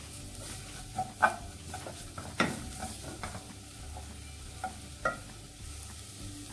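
Carrots and green onion are stirred in butter and oil, a quiet sizzle with a handful of distinct spoon knocks and scrapes against the pan, close and with no voices.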